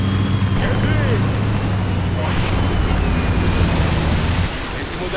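A boat skims across the waves of the South China Sea in Battlefield, with a constant loud roar of engine, wind and surf lasting throughout and a voice talking over it.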